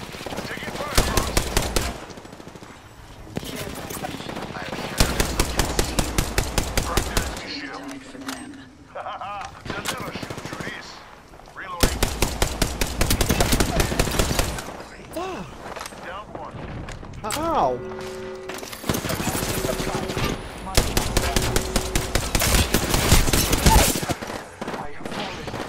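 Automatic gunfire in the video game Apex Legends comes in repeated rapid bursts of loud, sharp shots separated by brief pauses, with in-game sound effects between volleys.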